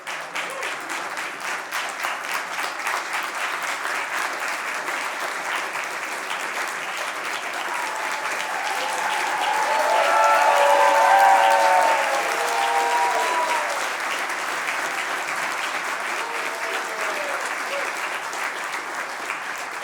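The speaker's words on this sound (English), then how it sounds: "One more round of applause for Jake, please." Sustained audience applause fills an awards ceremony hall, steady throughout and swelling louder in the middle before easing back, with faint tonal sounds rising briefly above the clapping.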